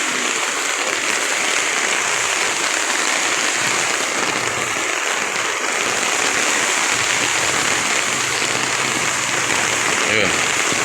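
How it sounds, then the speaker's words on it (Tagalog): Heavy rain pours down steadily in a flooded city street near a market and LRT station, a dense, loud, even hiss that fills the whole stretch. "Lumakas na naman yung ulan"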